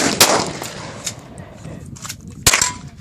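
A child fires a .22 rifle outdoors: two sharp, loud cracks, one near the start and one later, separated by quieter background noise and faint voices.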